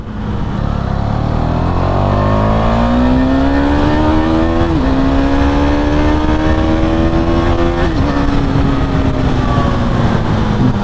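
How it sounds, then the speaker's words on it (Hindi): A KTM motorcycle pulls hard in fourth gear, its engine note rising steadily in a loud, continuous whine, with brief dips in pitch as the throttle shifts, close up and with no voices. "देखो भाई चौथे गियर में भी बाइक क्या उठ रही है।"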